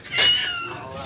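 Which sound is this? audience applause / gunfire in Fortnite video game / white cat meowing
white cat meowing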